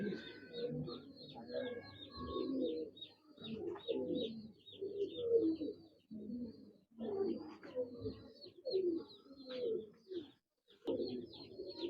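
Rampuri pigeons kept in a cage coo repeatedly in soft, throaty bursts, close and moderately loud, with brief pauses between phrases over roughly twelve seconds.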